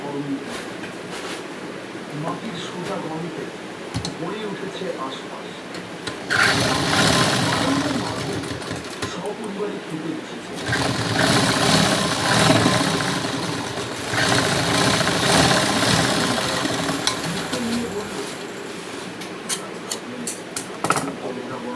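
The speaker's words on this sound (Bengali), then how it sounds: "এবার সেলাই করব।" Electric sewing machine stitching a blouse sleeve folded over by half an inch, running in two long steady bursts with a pause between, mechanical whirring fairly close and loud.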